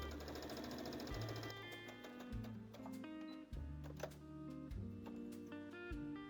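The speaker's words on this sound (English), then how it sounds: "stop with your needle down, lift the presser foot and shift the material to stitch straight again" Sewing machine stitching fabric for a bow tie top, a steady mechanical whir with rapid needle clatter that stops and restarts in short bursts as the material is turned at corners, close and alone.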